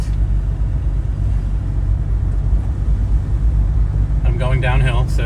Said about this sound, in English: All right, so here we are driving.